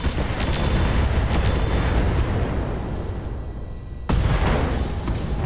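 Heavy mech weapons fire and impacts in the Roguetech battle game, a dense, loud barrage of booming blasts that briefly drops away before another sharp burst lands near the end.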